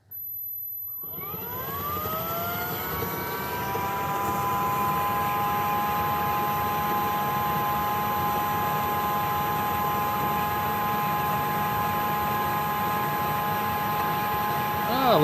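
A Hyla EST water-filter canister vacuum starts up and runs at low speed, a loud, steady motor roar with a rising then level whine, close by and alone.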